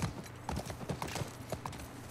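Steady clip-clop of horse hooves in The Last of Us Part II, a quick regular rhythm of light, hollow knocks, fairly quiet and close.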